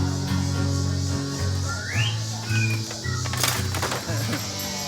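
A short, faint whistled rising note drifts over a steady low hum and background chatter, with a few brief tones after.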